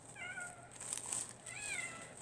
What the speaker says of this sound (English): Alright, Mama Cat, I hear you.